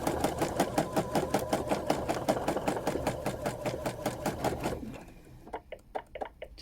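A sewing machine runs fast in free-motion quilting of a spring blackbird quilt, a rapid, even stitching chatter that is close and steady, then slows into slower, separate stitches near the end.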